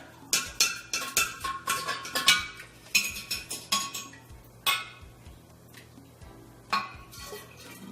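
Sanitized stirrer clinking and scraping in a vessel of wine must as yeast nutrient is mixed in, a quick run of close, bright knocks and swishes that thins out into a few scattered taps.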